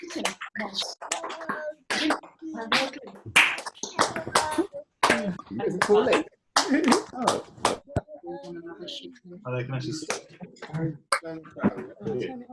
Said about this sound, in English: So clap, clap, clap, clap, clap.